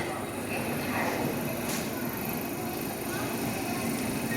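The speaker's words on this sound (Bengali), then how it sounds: "হাওড়া টু গয়া বন্দে ভারত এক্সপ্রেসে করে আজ আমরা যাচ্ছি গয়া।" Steady rumble and rush inside a moving Howrah–Gaya Vande Bharat Express passenger train, a continuous close cabin noise with faint rattles throughout.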